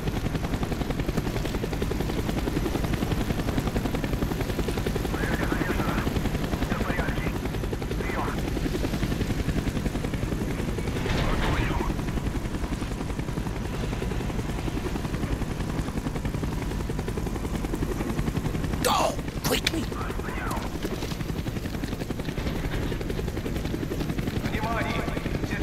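A helicopter in the Call of Duty: Black Ops campaign gives a steady, loud low rotor drone for the whole stretch, with brief sharp bursts like gunfire near the end.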